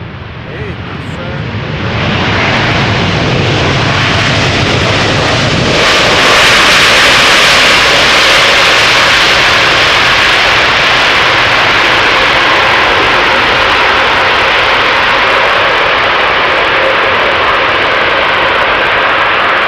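Jet airliner arriving on the Polderbaan runway at Schiphol, a loud, steady roar that swells after a couple of seconds and holds broad and sustained, with a voice talking over it.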